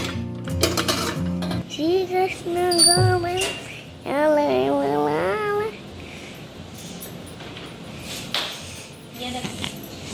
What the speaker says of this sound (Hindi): अभी मैं ढक्कन बंद कर देती हूँ इसका